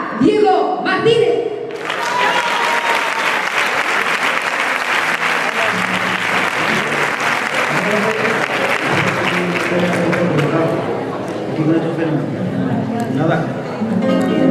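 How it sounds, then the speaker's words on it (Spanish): Loud, sustained applause from a charity Christmas gala audience fills the space, with voices and cheering mixed in and some musical tones emerging toward the end. "un aplauso muy fuerte para Diego Martínez"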